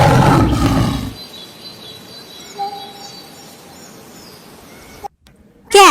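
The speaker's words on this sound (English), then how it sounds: "lion." Lion roaring, a loud deep burst at the start lasting about a second, then quieter bird calls and insect-like ambience, with another sharp loud sound at the very end.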